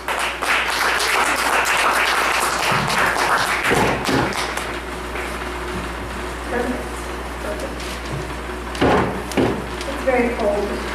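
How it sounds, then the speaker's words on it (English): Audience at an open mic poetry night applauds a poet, a dense burst of clapping that thins out midway, with thumps and taps of movement and some background voices. "Let's all give a big round of applause for Bailey Buckner."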